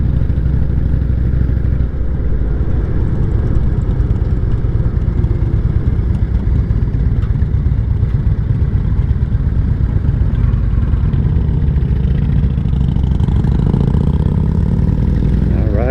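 Motorcycles riding on roads around Pinckney, Michigan, with a continuous loud engine roar and heavy wind rush throughout, the pitch rising near the end as the engine revs.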